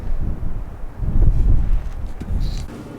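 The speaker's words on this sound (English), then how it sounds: "So we're just gonna have to deal with some wind tonight." Strong gusts of wind buffeting around a parked vehicle at night, low rumbling roar surging and easing in waves with occasional rattles, heavy and close with no talking.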